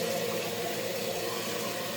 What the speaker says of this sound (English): I am getting some water that is